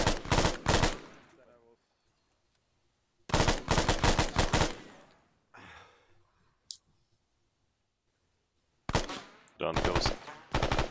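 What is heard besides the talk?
gunfire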